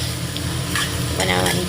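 Cabbage tossed in with pigeon peas for a stir-fried vegetable dish hisses in a hot pan, a constant close sizzle with scraping stirring bursts and no talking.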